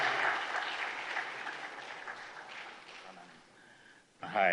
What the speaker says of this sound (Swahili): Makofi mengi sana kwa Mheshimiwa Rais.